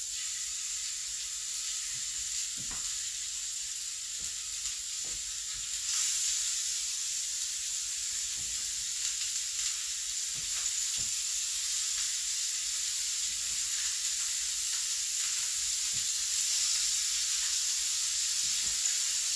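Shrimp sizzle steadily in a small number 8 skillet, a constant bright hiss with occasional soft pops and clinks, and no talking.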